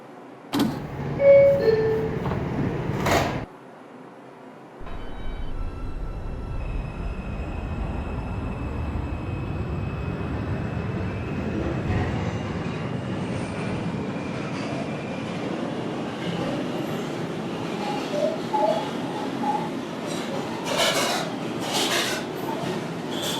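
An R142 subway car on the 2 line closes its doors with a chime and thud, then pulls away, motors whining and wheels rumbling louder as it accelerates; an automated announcement plays briefly over the departure.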